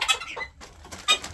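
Two mother hens cluck in short bursts close by on a farm where guinea fowl are also kept, brief pauses separating the calls.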